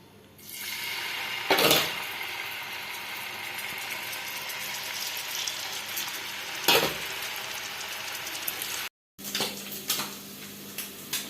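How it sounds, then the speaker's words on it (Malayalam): Steady, bright sizzling of anchovies frying in hot oil, close by, with a couple of louder crackling bursts and one brief cut-out near the end. "കുറച്ച് എണ്ണ ഒഴിച്ച് അത് ചൂടായിട്ട് ഈ മീൻ അത്രയും വറുത്തെടുക്കണം"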